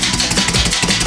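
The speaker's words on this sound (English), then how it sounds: "I'm just tenderizing some steaks, and I'm using this Jacquard tenderizer." A Jacquard tenderizer punches into top sirloin steak in a quick run of soft, close, rhythmic stabbing thuds.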